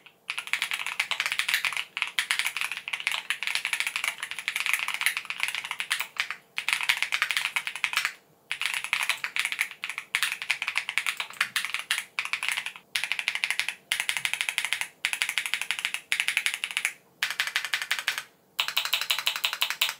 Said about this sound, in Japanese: やっぱりねすごく ねタイピング音がいいです